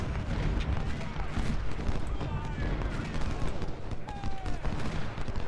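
Artillery and rifle fire on an American Civil War battlefield in Ultimate General: Civil War, a constant distant crackle of musketry with dull booms and whistling shells, with people talking over it.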